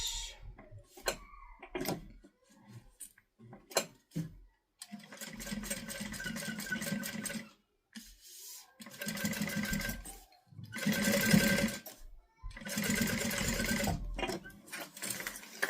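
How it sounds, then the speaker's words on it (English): Sewing machine top stitching a guitar-shaped fabric project at an eighth of an inch, running in several bursts of steady fast needle whirring separated by short pauses and clicks. "we are going to top stitch this down at an 1/8 of an inch"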